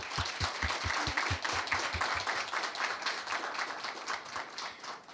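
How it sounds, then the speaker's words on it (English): Audience applause at a national conference on Indian knowledge systems: a burst of dense clapping from a crowded hall, steady and close, fading slightly toward the end with no talk over it. "Please give a round of applause to our guest."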